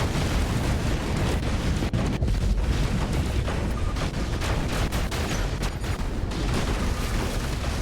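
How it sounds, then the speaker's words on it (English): Teammates firing on an enemy robot's shield in the War Robots game, a dense, unbroken roar of heavy weapon blasts and explosions that stays loud throughout. "my teammates are shooting this guy's shield"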